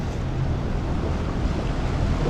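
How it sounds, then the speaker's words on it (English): A Pacific Ocean surge washes in and out over rocks at Mag Bay, Mexico, a broad, steady roar of moving water mixed with wind buffeting, close and loud without any talking. "Here, it just like surges in and surges out."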